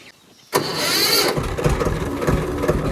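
A tractor engine cranks and catches abruptly, then settles into a loud, rumbling idle close by.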